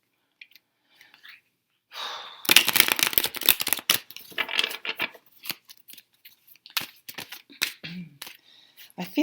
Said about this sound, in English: I think I need to do a shuffle, a proper shuffle.